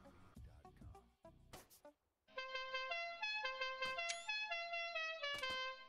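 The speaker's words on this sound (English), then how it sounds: "I honked the horn, and you heard the fancy Cucaracha theme song" A car horn in the video game Arma 3 plays the La Cucaracha melody as a bright run of tones. Short musical notes come first, then a brief pause, then the tune continues steadily and clearly.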